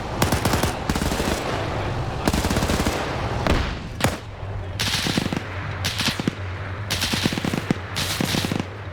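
Machine gun fire in a World War II video game, with long loud bursts of rapid shots broken by brief pauses and a few heavier single reports, close and dominating, with some talk faintly underneath.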